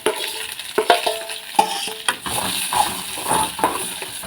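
Turkey berries sautéing in a pan, spoon scraping and stirring with soft sizzling and clinks of metal, uneven close strokes at close range.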